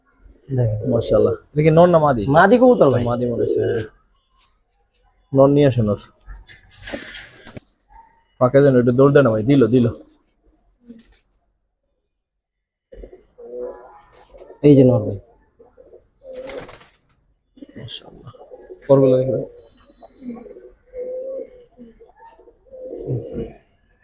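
Giribaz fancy pigeons cooing in repeated deep, warbling phrases close by, with bouts of a few seconds separated by short pauses, mixed with people talking nearby.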